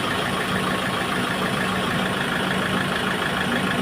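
A cold Mahindra engine runs steadily at idle, a continuous low mechanical rumble close by with no speech over it.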